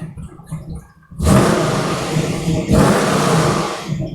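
A Gen 2 LT1 car engine on a daily driver fires up after a second of near quiet, then runs loud and close with a broad roar and belt squeal, easing briefly before surging again.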